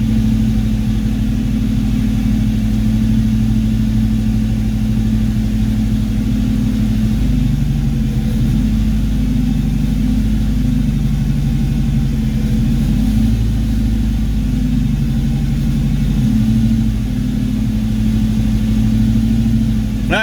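A Ford Foxbody Mustang V8 idles steadily throughout a cylinder balance test, its low rumble shifting in roughness now and then as individual cylinders cut out and come back in.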